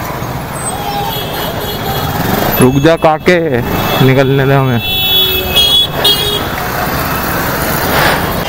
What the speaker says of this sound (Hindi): भाई साहब कुछ ट्रैफिक है,